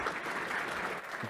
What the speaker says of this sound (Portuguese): uma salva de palmas para a Plug